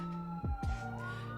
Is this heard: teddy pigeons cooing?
no